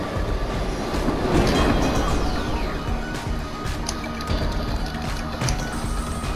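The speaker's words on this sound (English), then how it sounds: "the next train is coming" A train rumbles past in a video game, with a loud rolling roar, clickety-clack of wheels and metallic squeals, close and continuous throughout.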